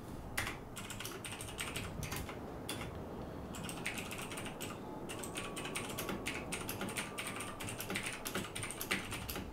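Rapid, close clicking of keys on a computer keyboard, running in bursts with short pauses, with no talk over it.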